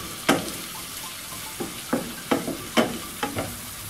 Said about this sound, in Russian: обжариваем.